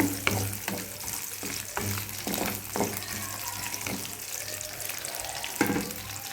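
Shallots and dried chillies sauté in a pan with a continuous crackling sizzle, punctuated by repeated scraping strokes of stirring, close and fairly loud.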